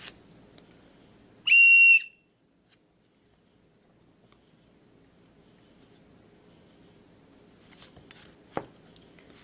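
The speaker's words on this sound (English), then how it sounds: "is an emergency whistle" An emergency whistle built into the cap of a tactical pen gives one short, very loud, shrill blast, followed by quiet handling clicks and faint rustling.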